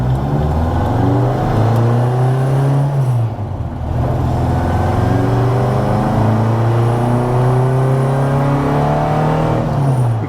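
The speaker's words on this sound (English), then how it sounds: "It starts to build up some boost from the Supercharger" Supercharged 1970 MGB GT with a five-speed Miata transmission revving up through the gears with rising pitch, a brief dip at a gear change, then climbing again loudly as boost builds above 3,500 rpm.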